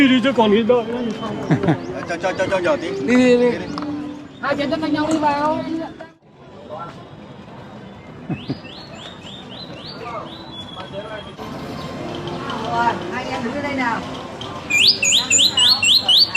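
A person whistles short, rising bird-like chirps in quick bursts, imitating a bird, mixed with chatter and street noise in Hanoi, Vietnam; brief squawky calls recur near the end.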